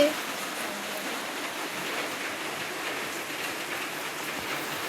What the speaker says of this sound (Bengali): বাইরে তো হেভি বৃষ্টি হচ্ছে